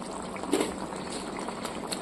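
Pan of Bengali poa bhola fish curry (jhal) at a steady boil, soft continuous bubbling and simmering hiss, close and fairly quiet, with one slightly louder bubble burst early on and no talking.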